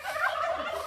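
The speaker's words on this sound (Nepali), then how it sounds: "यिनीहरू आवाज यस्तै हो टर्की पनि पाल्नु भएको छ" A turkey on a Boer goat farm in Nepal lets out a single rapid warbling gobble, close and clear, with no talk over it.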